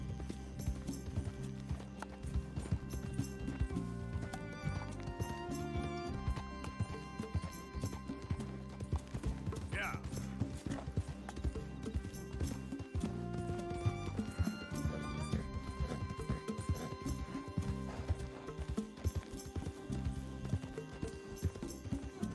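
In Red Dead Redemption 2, a stolen horse gallops on and on, a steady, loud, rhythmic drumming of hooves layered over game background music, with a brief whinny partway through.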